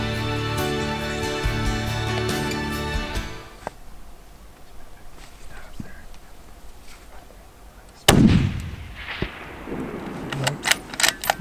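A single loud hunting gunshot rings out in the Canadian woods, sharp and close. It follows a stretch of music and quiet ambience and is trailed by faint rustling and clicks.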